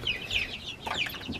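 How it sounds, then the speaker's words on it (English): Chickens cluck softly inside a hen house, with several short, close, bright calls that rise and fall over a low background hum. "let's go see if maybe a chicken laid an egg here in the hen house"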